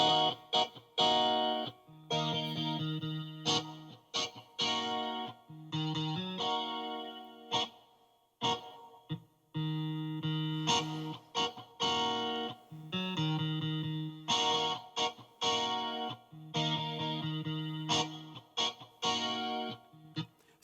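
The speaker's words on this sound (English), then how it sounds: "You can hear the difference with the chorus on and off." A Korg Pa5x keyboard plays repeated sustained chords with its chorus effect toggled, giving a shimmering, processed tone in short phrases separated by brief gaps, with no talking.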